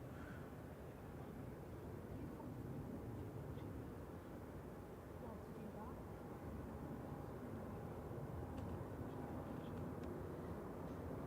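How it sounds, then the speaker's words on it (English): Arriving aircraft on night approach to Manchester Airport give a faint, distant, steady jet rumble that swells slightly toward the end over quiet outdoor background. "Couple of arrivals on approach now."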